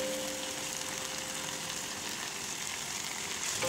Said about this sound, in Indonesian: Masak kol sampai matang ya guys, sampai empuk.